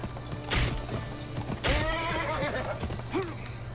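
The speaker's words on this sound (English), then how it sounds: "Jump on this horse." Horse in the western video game Gun whinnying twice with clear, drawn-out neighs, mixed with clip-clopping hooves and a low steady background hum.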